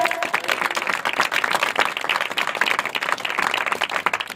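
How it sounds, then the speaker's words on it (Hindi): Loud, sustained applause from a church congregation, dense clapping filling the room continuously without a break. "प्रभु के लिए जोर से ताली बजाएं।"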